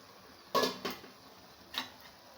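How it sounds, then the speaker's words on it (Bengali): A pot lid is lifted off a pot of water spinach and potatoes cooking on low heat. Two quick metallic clinks come close together, then a third a moment later, close and moderately loud over a quiet background. "এবার ঢাকনিটা উঠিয়ে নেব"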